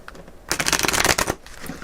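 Tarot cards being shuffled by hand, one quick riffling burst of rapid papery flutters lasting under a second, close and crisp, with no talking.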